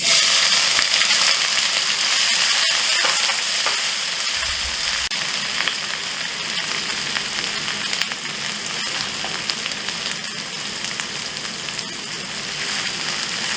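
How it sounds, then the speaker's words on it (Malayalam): Crushed green chilli, ginger and garlic hit hot coconut oil and fry with a dense, continuous crackling sizzle, close and fairly loud, with no voices over it. "ചൂടായി വരുന്ന എണ്ണയിലേക്ക് നമ്മുടെ ക്രഷ് ചെയ്ത ഗ്രീൻ ചില്ലി, ജിഞ്ചർ, ഗാർലിക് ഇടുക."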